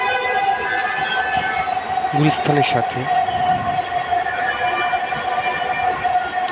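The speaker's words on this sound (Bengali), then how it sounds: "কি সুন্দর মেট্রো রেল যাচ্ছে।" A Dhaka metro rail train runs along the elevated line above the Purana Paltan crossing near the Secretariat, giving a steady, moderately loud rumble with a sustained tonal hum throughout. Someone talks briefly over it midway.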